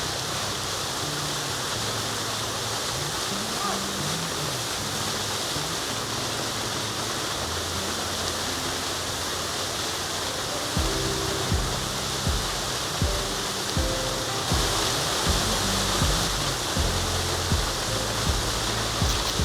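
Steady broadband rush of a river flowing near Ukta waterfall in the Dharampur hills of Valsad, South Gujarat, a continuous close roar of water with a few faint low knocks and clatters in the later half, no voices.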